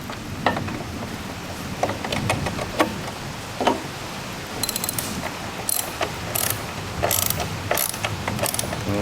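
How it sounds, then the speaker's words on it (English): Hand ratchet clicking while tightening the screws of a fender eliminator on a 2006-2007 Yamaha R6, using an Allen bit; close, steady bursts of sharp pawl clicks with brief pauses in between, no talking. "we're going to tighten up the screws for the Fender Eliminator with a tool here. I'm using a ratchet"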